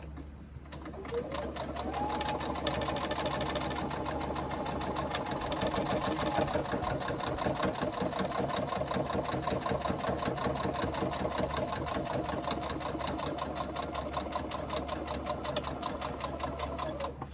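A sewing machine stitches the sides of a fabric sling, its motor whirring in a steady, rapid mechanical rhythm close up for the whole stretch without pause.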